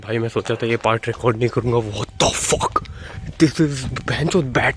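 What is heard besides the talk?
None of the usual background noises is heard.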